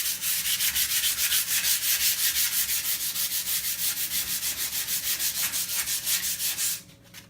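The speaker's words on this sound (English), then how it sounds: "I need to sand, and as I'm sanding" Sandpaper rubbed back and forth over a wax-coated wooden art piece, a steady rhythmic scratching of many even strokes, close and loud, stopping abruptly near the end.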